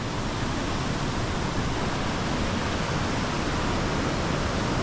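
A river current rushes past in a dense, even roar of flowing water, loud and unbroken throughout with no voices.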